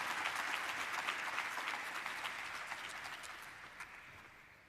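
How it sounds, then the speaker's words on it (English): Audience applause welcoming Bank of Kigali Chief Executive Officer Dr. Diane Karusisi on set at a BK Digital Day celebration: steady dense clapping from a sizeable crowd, held throughout and slowly fading toward the end, with no speech over it. "Let's give her a round of applause as she comes."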